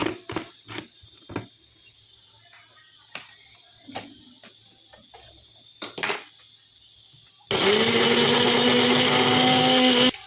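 A kitchen blender grinds a spice paste for a Bengali doi katla fish curry. Scattered sharp clicks and taps come first, then the motor kicks in with a loud, steady whirring roar for the last few seconds.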